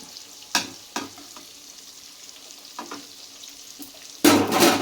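Stuffed bitter gourds filled with chickpeas fry in a pan, with a steady low sizzle and a few sharp utensil clicks as they are turned, then a loud burst of hissing near the end.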